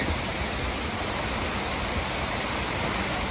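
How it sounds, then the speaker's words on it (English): A waterfall on Bear Creek roars at night in a wooded creek canyon, a loud, steady, broadband rush of falling water that fills everything with no other sounds audible. "too much noise from the waterfall to hear anything else"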